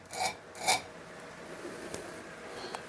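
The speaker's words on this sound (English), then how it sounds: "it's getting done with old school hand files" Old-fashioned hand files cutting a sharpening choil into a knife blade: two quick, close rasping strokes, then near silence with a couple of faint scrapes.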